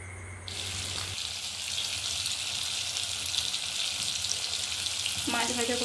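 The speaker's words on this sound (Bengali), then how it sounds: "মাছ ভাজা বসিয়ে দিলাম, 3 পিস দিয়েছি" Three salt-rubbed fish pieces fry in a pan over a lowered gas flame with a steady, even sizzle throughout, and a light clatter near the end.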